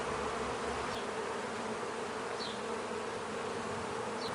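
Honeybees swarm around opened hive frames during a brood and egg inspection, giving a steady dense buzz that fills the scene at close range with no talk.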